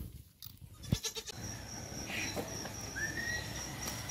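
Goats and sheep in a livestock pen at a farm in Dois Riachos, Alagoas, give faint, distant bleats over quiet outdoor background with insect chirring and no talking.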